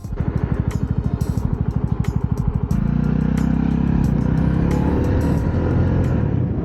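A Honda CB125R motorcycle is ridden on the road, with a rapid pulsing engine putter at first that smooths into a loud, continuous drone as it gathers speed, close and with no talk.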